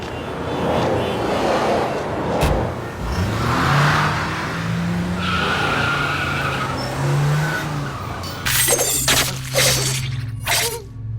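A car revs and drives off with tire squeal and skidding, engine pitch rising and falling loudly up close, followed by sharp crashing bursts near the end.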